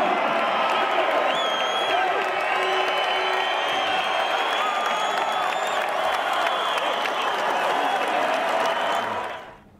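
A large arena crowd applauds and cheers steadily after a fight, with dense sustained clapping, scattered whoops and shouts, loud and continuous before fading out at the very end.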